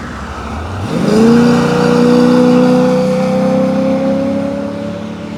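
A 1998 Corvette running on nitrous roars up from idle into a loud, sustained acceleration, its engine note climbing and then holding steady with a strong harmonic drone, close and without talk.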